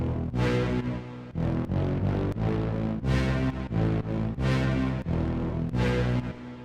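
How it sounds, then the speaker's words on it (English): A heavy synth brass patch blasts through the drop of a drum and bass track, loud stabbing chords in a steady chopped rhythm over full drums, with no talking. "let's get to the brass, the heavy sound that is sort of the real meat of the song."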